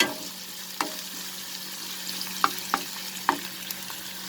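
Onion and dried red chilies sautéing in a pan for a chicken and okra curry, a steady low sizzle with a few sharp stirring clicks and scrapes near the end.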